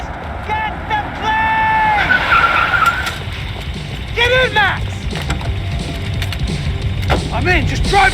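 Car engine and squealing tires from a driving sequence in the video game Max Payne 3, with bursts of skidding and revving under shouted dialogue, gunfire-like cracks and game music throughout.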